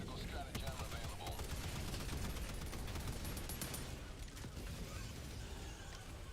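Sustained automatic weapon fire in a shooter game, a steady rattling stream of shots heard fairly faintly and continuously, with a player's voice present in the mix.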